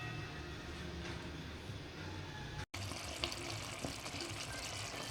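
Sardines sautéed with glass noodles simmer in a pan, giving a steady, close bubbling and hissing wash that runs throughout with one brief dropout midway.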